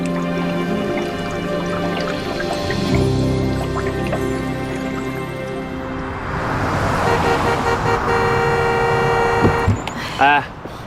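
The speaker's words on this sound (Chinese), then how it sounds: "你不知道市区不能鸣笛吗？ 按那么多下" A four-wheel-drive vehicle's horn honks repeatedly on a city street, sustained tones layered over traffic noise and background sound, with no spoken words.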